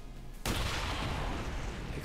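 An explosion bursts in the video game XCOM 2: War of the Chosen, a sudden loud broadband blast that hits after a quiet moment and rumbles on for over a second.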